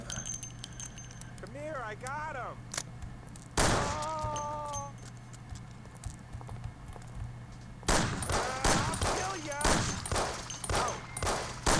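Bursts of police Colt pistol fire in Mafia: The City of Lost Heaven, two clusters of loud shots over a steady game-ambience hum, with someone speaking briefly between them.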